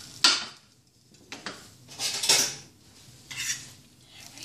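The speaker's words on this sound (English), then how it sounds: "I'm going to take a fork and kind of push all the vegetables through the noodles" A fork scrapes and clinks against a pan while pushing vegetables through chow mein noodles, a few separate metallic scrapes and taps spaced apart, close by over quiet background, no talking.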